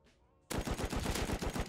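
Rapid automatic gunfire in the video game Rust, a loud burst of close, evenly spaced shots starting abruptly after a brief quiet moment and continuing steadily.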